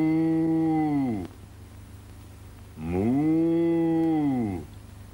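A human voice imitates a cow mooing on a children's television show, producing two long, loud, drawn-out moos separated by a short gap.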